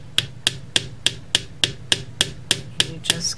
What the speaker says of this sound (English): just the end of the wire on my bench block, or in this case my little anvil, and then just start tapping it lightly with your hammer